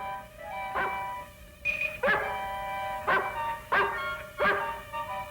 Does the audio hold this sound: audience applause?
no